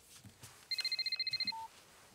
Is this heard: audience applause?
no